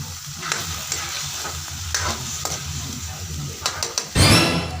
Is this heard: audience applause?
no